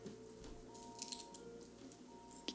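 Pruning shears snipping twigs for a fall broom craft, a few quiet crisp cuts against a faint background.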